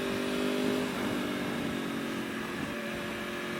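A Yamaha R1 sport bike with its catalytic converter deleted and ECU flashed pulls away under light throttle, a steady engine drone heard from the rider's position over heavy wind rush.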